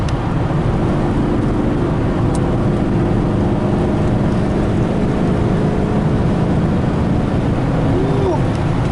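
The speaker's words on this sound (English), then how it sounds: "I love hearing that exhaust on here, boy." Hemi-engined car exhaust rumbling steadily and loudly up close, a continuous low droning idle that holds throughout with no breaks.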